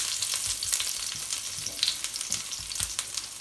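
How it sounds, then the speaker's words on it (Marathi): Garlic, mustard seeds and cumin frying in hot oil, giving a steady crackling sizzle with small popping bursts, fairly quiet and with no talk. "आता मी त्याच्यामध्ये हे लसूण आणि राई जिरं एकत्र टाकणार आहे"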